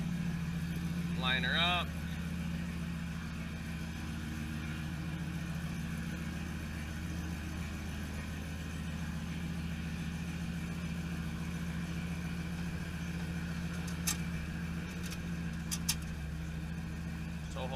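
A pickup truck fitted with a swapped 4L80E transmission idles steadily at a constant low rumble as it is driven into a garage, with someone talking briefly near the start.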